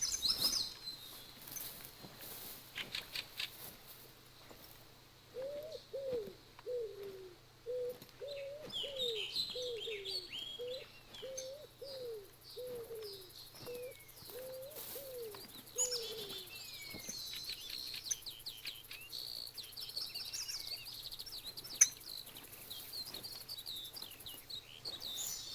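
Birds calling in the hunting game theHunter: Call of the Wild, set in the Hirschfelden reserve: a quiet, distant series of cooing notes followed by scattered chirps and tweets over faint outdoor ambience.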